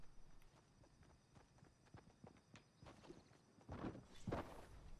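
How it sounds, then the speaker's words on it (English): Footsteps in Fortnite on a farm map, a steady series of soft thudding steps that grow louder toward the end, with no talking. "Footsteps! Another intruder."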